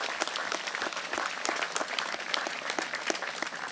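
A worship congregation claps together in praise, producing dense, steady applause from many hands that fills the room evenly for a few seconds.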